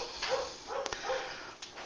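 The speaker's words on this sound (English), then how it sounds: "Sorry about the barking." A few sharp dog barks, spaced apart at moderate distance, over a steady background hum.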